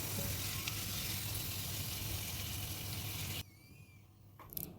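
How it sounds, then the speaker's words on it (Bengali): Potatoes frying in oil in a wok for a fish recipe at home: a dense, steady sizzle dominates for over three seconds, then cuts to quiet as the pan is handled, with a small clink at the end. "আলুগুলো কিন্তু আমার লাল লাল করে ভাজা হয়ে গেছে"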